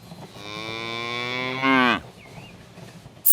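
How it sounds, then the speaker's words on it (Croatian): A cow gives one long, loud, close moo that swells and then breaks off, followed by quiet, with a faint click at the very end. It sits within a farm-animal sequence for babies. "Krava."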